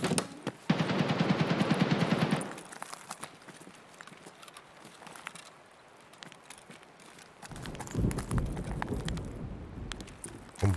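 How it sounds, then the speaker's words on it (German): Gunfire in the online shooter game Escape From Tarkov: a dense burst of rapid shots for about two seconds, then scattered distant cracks and a second rumbling volley near the end. "Und wo sind die Schüsse gekommen?"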